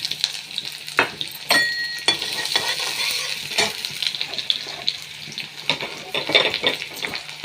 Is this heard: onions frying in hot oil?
yes